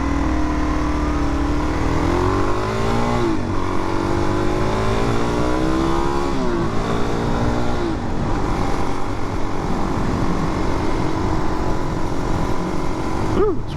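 A 2022 Suzuki DRZ400 motorcycle is being ridden. The engine holds a steady drone, with several rising and falling revs as it shifts and accelerates, under constant wind rush.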